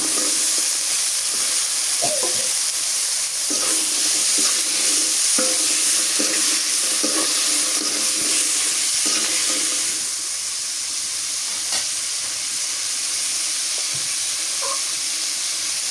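Potatoes tossed into a pan of fried dried fish give a steady close sizzle with scattered stirring scrapes and soft clinks throughout, no voices.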